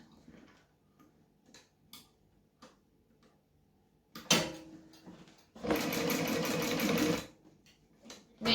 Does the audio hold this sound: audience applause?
no